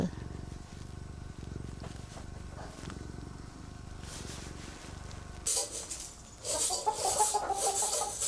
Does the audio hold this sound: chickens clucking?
yes